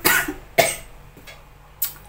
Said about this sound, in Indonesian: batuk mulu ya